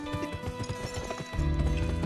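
In the video game GUN, hooves clatter in a quick, rhythmic gallop, followed by a loud horse whinny near the end, with game-like ambience beneath.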